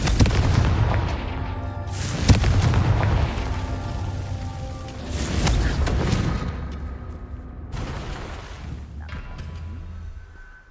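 Confringo fire spells explode in Hogwarts Legacy, several loud booming blasts spaced a few seconds apart with crackling debris trailing off between them.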